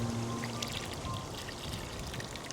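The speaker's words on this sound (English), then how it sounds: "put the cup on, and put some water in there." Water poured into the reservoir of an OutIn portable coffee maker, a steady close splash and trickle running for a couple of seconds with a faint hum behind it.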